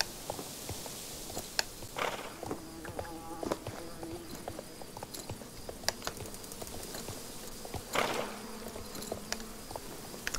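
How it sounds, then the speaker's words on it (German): Bees buzz in the video game Star Stable Online, a thin insect drone set among clip-clopping hooves and small clicks from the game world, with steady background ambience throughout. "Das hörte sich gerade aber sehr nach Bienen an."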